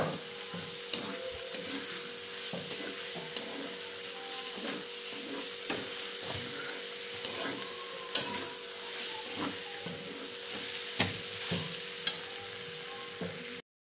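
Tomato curry with coriander being stirred in a pan, a soft steady sizzle under repeated scraping strokes of a spoon at an even rhythm, close and fairly quiet.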